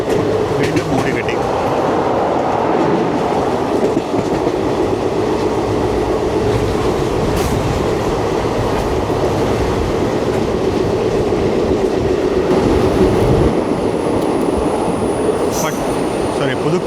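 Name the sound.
Chennai Egmore–Guruvayur Express train running through Pudukkad station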